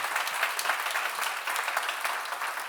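A church congregation claps together in a sustained burst of applause, dense and even throughout, heard from within the room at moderate level.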